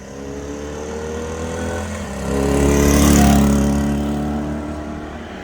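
A 1968 Honda CD175 Super Sport motorcycle engine runs steadily nearby, swelling louder for a couple of seconds in the middle before easing back to a smooth idle.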